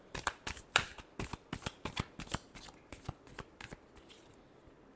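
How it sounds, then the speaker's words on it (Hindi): Tarot cards are shuffled by hand in a quick series of crisp riffling bursts, about a dozen sharp slaps and flutters close up and fairly quiet, with no speech. "last shuffle"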